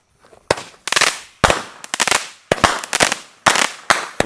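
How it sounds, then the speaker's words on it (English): A Wildcard 200-gram consumer firework cake fires outdoors: a rapid, loud series of sharp cracking shots in irregular bursts of several each, with crackling trails between pops. "here goes Wildcard, an absolute classic 200-gram cake."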